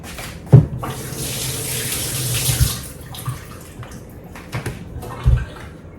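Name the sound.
tap water running while rinsing an onion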